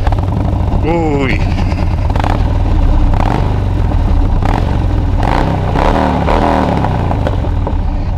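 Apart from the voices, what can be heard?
motorcycle engine running and revving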